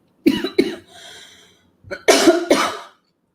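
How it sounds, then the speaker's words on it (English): Several harsh coughs up close: a pair of sharp coughs, a wheezy breath, then another louder cluster of coughing. "because I'm coughing."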